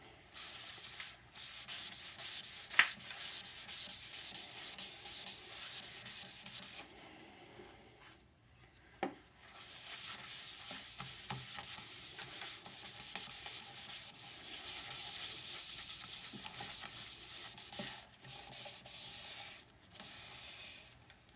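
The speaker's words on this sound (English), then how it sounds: "Now I'm going to put some Danish oil on it," Danish oil is rubbed into a sanded oak bowl turned from firewood: a long, steady, close-up cloth rubbing with one short pause partway through and a few light knocks.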